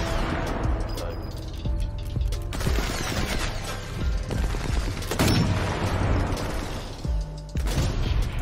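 Gunfire in Sniper Elite 4 crackles almost continuously, with sharp cracks and rattling bursts over a dense battle bed, while players talk excitedly throughout.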